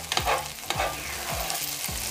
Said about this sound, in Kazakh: Табадағы қуырылған қызанақтарды қасықпен ақырындап Табаның ортасына жинап алыңыздар.